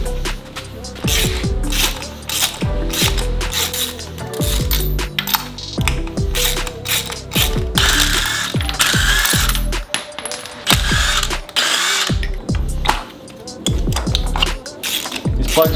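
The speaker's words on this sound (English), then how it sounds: "And while we're at it, we can go ahead and pull out spark plugs." Ratchet and mechanical clatter while spark plugs are removed from a Subaru WRX/STI EJ20/EJ25 engine, loud close clicking and metallic knocks in uneven bursts throughout.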